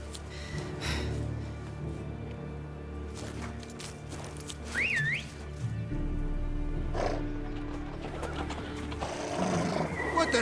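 Horses in the video game The Witcher 3 shuffle and neigh during a palace scene, with one short whinny rising over a low rumbling game soundscape. Voices talk throughout.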